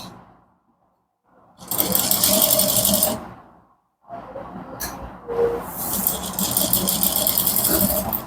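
An electric sewing machine stitches a danshiki in two long bursts of fast, steady whirring and rattling, close and loud, separated by short pauses.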